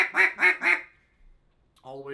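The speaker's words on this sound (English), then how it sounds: "So once you've got your quack and you've strung five or seven of them together to get your greeting call" Three short, evenly spaced quacks blown on a duck call, close and clear, followed by a brief pause and the start of a longer buzzy note.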